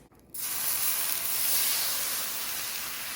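Water hits a hot pan of vegetable hash with a sudden loud hiss that settles into a steady, bright sizzle.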